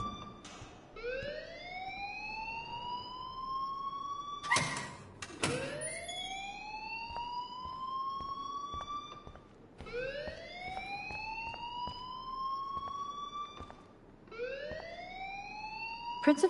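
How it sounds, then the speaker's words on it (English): An alarm wails in Life is Strange, rising siren sweeps repeating about every four to five seconds with a couple of sharp clicks between, steady and fairly loud. "please turn off that alarm since that's your job"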